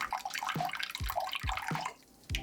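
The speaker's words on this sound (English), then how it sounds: "So we are going to do 1/4 cup of rice vinegar." Rice vinegar glugs into a non-metal measuring cup in a burbling pour with rhythmic low plops for about two seconds, close and quiet, ending in a brief pause and a final splash.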